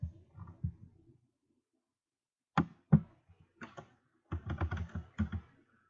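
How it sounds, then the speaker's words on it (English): Typing on a computer keyboard in irregular bursts of key clicks, near and fairly quiet, with pauses between flurries and no talk. "I'm going to just type Porter to see if anything happens."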